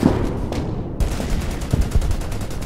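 Heavy battle gunfire in the strategy war game Order of Battle: Morning Sun, with tank shots and rapid bursts in close succession, loud and dense over a rumbling background.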